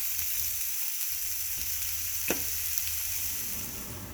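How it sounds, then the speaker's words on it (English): Onions and steak cooking slowly over low heat in a pan, a soft, even sizzle close by with one brief clink partway through. "So my onions are caramelized. They've been sitting in the pan for about 20 minutes on a low heat."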